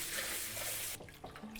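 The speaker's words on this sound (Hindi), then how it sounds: "दाल को धोना बहुत ज़रूरी।" Tap water running steadily into mung dal being washed, a close, even rush that cuts off abruptly, leaving faint drips and handling sounds.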